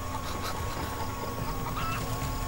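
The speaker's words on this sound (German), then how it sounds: "Hühner." Chickens cluck in the video game Call of Duty: Black Ops, a faint, scattered clucking beneath steady loud ambient game noise, with no talk.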